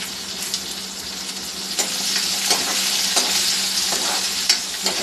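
Chopped onion sizzles in hot oil with coriander seeds and curry leaves while a spoon stirs it, making a loud, steady frying hiss close by. Scraping strokes of the stirring come through now and then, with no voices.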